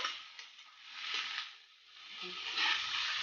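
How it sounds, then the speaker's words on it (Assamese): Small-cut potatoes frying in oil in a pan in a home kitchen. A steady, close sizzling hiss runs throughout, swelling and easing slightly, with faint clicks of the utensil. "মই আলুখিনি ইয়াতে বহাই দিলোঁ"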